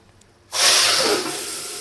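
Food dropped into hot cooking oil at home, bursting into a loud sudden sizzle after a moment of quiet, then a steady bright hiss that eases slightly and keeps going.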